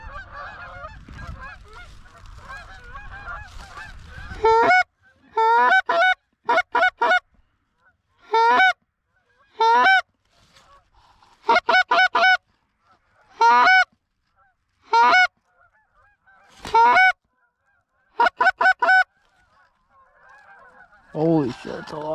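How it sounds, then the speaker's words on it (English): Loud bursts of geese honking in irregular clusters, many birds calling together, separated by short quiet gaps, with faint talk and handling noise at the start. "A lot of geese."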